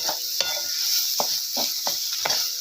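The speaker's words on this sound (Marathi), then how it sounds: "थोडासा जाळ लावायचा आहे आपल्याला आणि पूर्ण अशी परतून घ्यायची" Ridge gourd chutney sizzles steadily in a pan while a spoon stirs it, scraping the metal in repeated distinct strokes over a constant close frying hiss.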